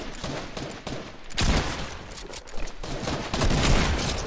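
Fortnite gunfire crackles in rapid, overlapping bursts, a loud, near fusillade of shots that keeps up steadily from start to finish.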